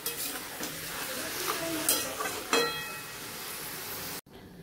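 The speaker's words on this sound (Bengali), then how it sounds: "এখন ভালো করে নেড়ে নেব। আর মাংসটাকে আমি আস্তে আস্তে কষতে থাকবো" Spiced mutton being stirred and slowly fried in a pot, Bengali style, with scraping spoon strokes over a steady sizzle, a couple of louder clanks near the middle, then cutting off abruptly before the end.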